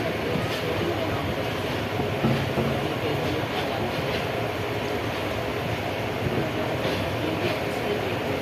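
A train rolls through a large railway junction with a continuous, moderately distant rumble and faint rhythmic clatter of wheels, steady from start to finish.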